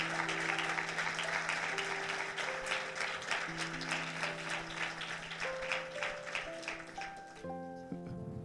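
A church congregation applauds Jesus with sustained, dense clapping across the room, while soft keyboard notes play underneath and come up more clearly as the applause fades.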